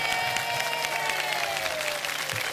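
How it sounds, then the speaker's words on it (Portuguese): Audience at a live concert in Rio de Janeiro bursts into dense, sustained applause, a steady roar of many hands at moderate volume, with faint voices mixed in. "Agora é todos juntos, uma salva de palmas como deve ser, para nós."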